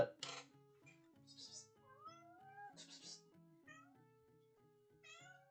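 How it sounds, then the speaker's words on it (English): A cat meows repeatedly in a quiet room, several drawn-out rising and falling calls spaced across a few seconds, moderately close and alone without talk. "Cat's meowing for some reason."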